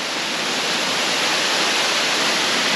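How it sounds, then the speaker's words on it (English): Chokkradin Waterfall in Thailand roars as a loud, continuous broadband rush of falling water that never lets up. "So the name of the waterfall is Chokkradin Waterfall here in Thailand."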